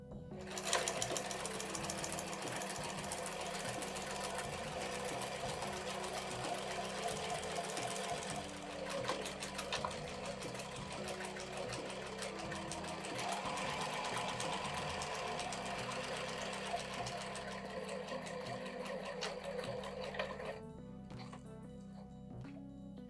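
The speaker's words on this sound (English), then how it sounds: "And we are going to sew all along the bottom here." A sewing machine stitches along the bottom seam of a quilted cathedral window tote bag, a steady, close, continuous whir of rapid needle strokes that runs unbroken for about twenty seconds before stopping.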